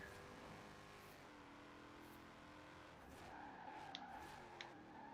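Tires skid and squeal under hard braking in a racing video game, a steady, loud whine with sustained engine tones running throughout and no pause.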